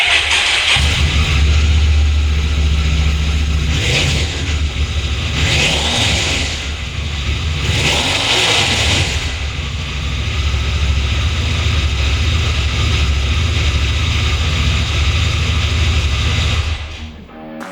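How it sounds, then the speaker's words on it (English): Stock exhaust of a 2024 Honda CRF1100 Africa Twin adventure motorcycle revving, loud and close, with a steady low engine drone broken by several rising throttle blips before it settles and cuts off near the end. "The one thing we are glad Honda decided to retain is the exhaust sound."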